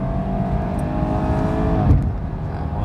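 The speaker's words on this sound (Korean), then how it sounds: "이 정도 엔진 사운드 들을 수 있는 것으로 하고요" BMW 420i engine humming steadily from inside the cabin while driving, a moderate even drone with a brief bump near the end.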